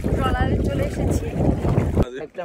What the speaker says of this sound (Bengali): ট্রলারে চলে এসেছি।